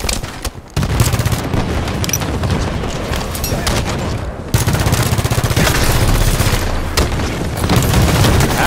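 Rapid gunfire and explosive rocket blasts in Halo 5: Guardians, a dense barrage of close shots and booms with brief pauses.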